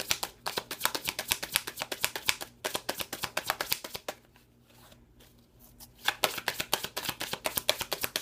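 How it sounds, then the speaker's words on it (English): A tarot card deck shuffled close up in rapid riffling bursts, a brief quieter pause in the middle, then the brisk shuffling resumes. "Let's put those back in the deck, and let's shuffle."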